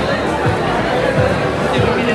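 Busy crowd chatter fills a packed Vijay Sales store during the festive Dussehra rush, a steady dense murmur of many voices with occasional low thumps underneath.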